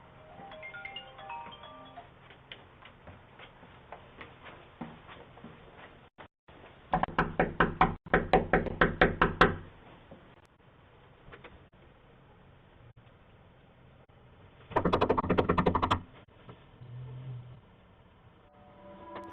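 Someone knocks on a house's front door at night in two loud bursts of rapid raps, first a longer run then a shorter one, while a phone rings faintly nearby.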